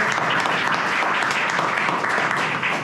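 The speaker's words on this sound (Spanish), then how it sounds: "Por favor, un fuerte aplauso para ella" A live audience at a book presentation claps steadily and densely, a loud even wash of applause that holds for a few seconds with no voices over it.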